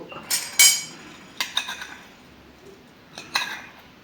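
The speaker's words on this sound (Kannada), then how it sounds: "ಎಲ್ಲ ಚೆನ್ನಾಗಿ ಕಲಿಸ್ತಾ ಇದ್ದೀನಿ" Sprouted-bean salad with pomegranate seeds, onion and salt being mixed in a bowl, with a few sharp clinks of a spoon against the dish in scattered bursts, close and fairly quiet, no talking.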